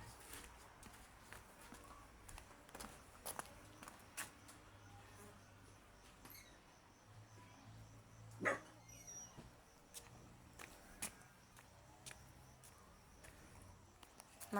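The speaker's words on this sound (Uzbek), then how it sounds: "Mana shu 1 yoshga to'lgan kuchukchamiz." A one-year-old Georgian-breed puppy gives a few faint, scattered barks at a distance, under insect and cricket chirping and occasional footsteps outdoors.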